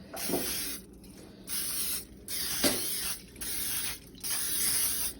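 Several hissing bursts of aerosol cooking spray onto a bread pan, about four or five in an irregular rhythm, close up with brief gaps between.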